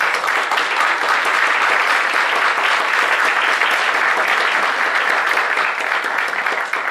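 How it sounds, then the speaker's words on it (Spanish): A large audience at a conference opening in Mexico applauds loudly and continuously, a dense steady patter of many hands clapping that holds even from start to finish. "Pues demos un fuerte aplauso a Elvia Higuera Pérez."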